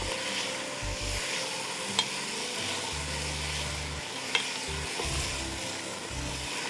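Parsi kharia stirring and frying in a pan with a continuous close sizzle, a low rumble beneath, and a couple of brief metallic clinks from the spoon, with no voices.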